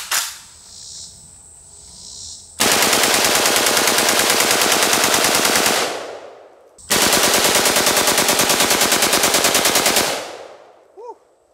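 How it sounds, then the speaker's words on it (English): Two long full-auto bursts from an AK-47 rifle fired at a cinder block wall outdoors, each a rapid, loud, evenly spaced string of shots lasting several seconds, separated by a short pause and followed by a fading echo. "I think I'm gonna let the AK cool off for a minute."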